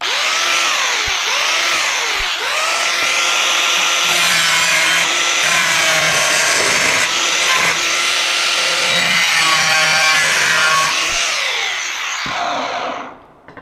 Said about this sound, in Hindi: आपने इसको भी थोड़ा सा काट देना, कट लगा देना सिर्फ इधर।